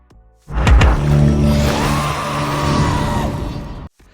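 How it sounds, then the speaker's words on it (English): A beast in the Witcher: Blood Origin TV series lets out a loud, prolonged bellowing scream lasting about three seconds, rising sharply and then cut off abruptly, with no talk over it. "We open up and there's a beast screaming"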